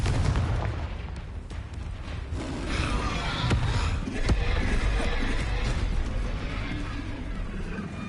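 Confringo and Bombarda spell blasts in the video game Hogwarts Legacy, a continuous barrage of booming impacts and sharp cracks over a dense rumbling bed of battle noise, loud and sustained throughout.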